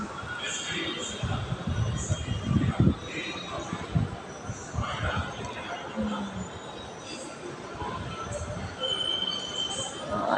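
A Hyderabad metro train at a station, its wheels squealing over a steady rumble with crowd chatter and some talk in the background, loud and continuous throughout.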